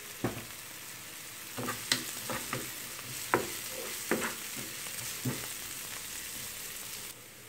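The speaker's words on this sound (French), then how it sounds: "je les fais revenir environ 2 minutes" Onions cooking for moussaka sizzle steadily in a pan, with soft spatula scrapes and stirring clicks at irregular intervals over a gentle frying hiss.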